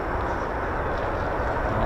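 F-35 fighter jet taxiing at RAF Lakenheath, heard as a steady, broad engine roar with a whining edge from a moderate distance, unbroken and with no voices over it.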